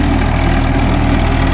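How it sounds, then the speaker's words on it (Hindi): A Swaraj 855 tractor runs steadily while pulling an 8-foot Jagatjit super seeder, giving a loud, close, continuous low engine drone with even vibration throughout and no speech. "8 फुटा रूटा सुपर सीडर में ट्रैक्टर चल रहा है"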